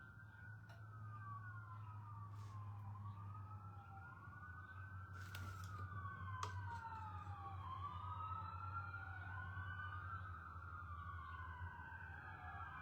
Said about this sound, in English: when I see sirens in my neighborhood